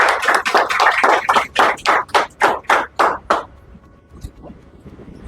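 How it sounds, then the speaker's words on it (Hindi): A small group claps at a political party gathering welcoming a new candidate, about a dozen distinct, fairly loud and evenly spaced claps that start somewhat dense and thin out before stopping abruptly, followed by near silence. "जोरदार तालियां।"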